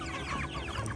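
Chickens cluck close by during morning feeding before 6am, a short overlapping chorus of soft, busy clucks from several hens at moderate volume.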